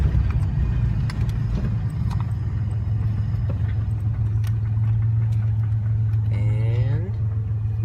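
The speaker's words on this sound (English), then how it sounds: "Clutch in, clutch out, and then you just want to eventually come to a stop." A manual transmission car with a steady, close engine drone while coasting down to a stop, the tone holding level before a brief clutch-and-gear shuffle and a short rising whine near the end.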